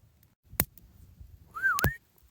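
A person gives a short rising-and-falling whistle for a dog, close by, between a couple of sharp clicks or knocks in an otherwise quiet, dry, cold outdoor setting.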